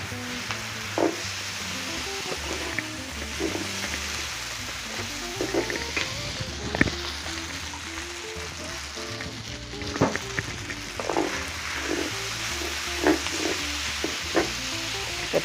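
Scallions and cilantro sizzling in oil in a pan with angel hair pasta and mushrooms, a steady frying hiss broken by occasional clinks and stirring scrapes.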